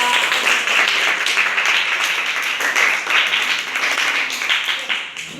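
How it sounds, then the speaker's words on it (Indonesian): Students in a classroom applaud a group after its presentation in an English lesson, lively close clapping from many hands lasting several seconds before tapering off, with scattered voices mixed in. "Tepuk tangan untuk kelompok."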